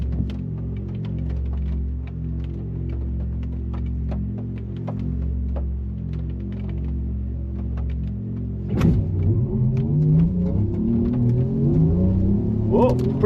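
A yellow Porsche Macan Turbo electric SUV launches up a hill, a steady low hum and whine giving way to a sharp surge and rising electric drone, with faint talk and cabin noise.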